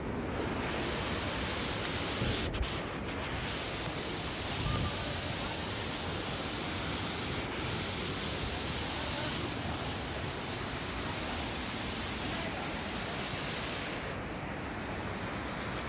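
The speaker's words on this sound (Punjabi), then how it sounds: "ਪੱਥਰਾਂ ਦੇ ਵਿੱਚ ਦੀ ਉਤੋਂ ਥੱਲੇ ਪਾਣੀ ਵਗਦਾ" Water rushes down over stones in a forest stream in Assam, a constant broadband roar that stays close and loud and unbroken throughout, with no speech.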